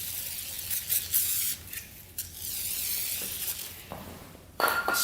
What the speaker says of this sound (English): Spray some WD-40.